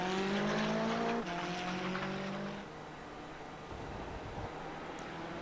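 A McLaren GT4 race car in a sim racing game lapping Motegi: a loud engine note winds down through its gears as the car brakes, with faint tyre scrub, then fades to a quieter drone.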